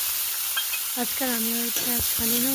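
Dal frying in a hot pan for a Nepali dal-bhat meal, a steady broadband sizzle running throughout while someone talks over it.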